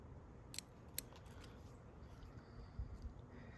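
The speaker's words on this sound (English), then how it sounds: "Maybe I need to cut back one node." Scissors prune a tree shoot back by one node, giving two quick, crisp snips in close succession, then light rustling in a quiet outdoor setting.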